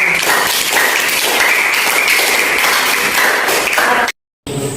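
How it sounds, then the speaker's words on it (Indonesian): Dense, steady applause from a class of schoolchildren, loud and sustained, cutting off abruptly near the end before a brief burst resumes. "Tepuk tangan untuk jawab."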